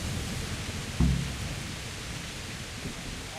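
Steady rain falls in Kingdom Come: Deliverance, a continuous even hiss throughout with one brief low thump near the start.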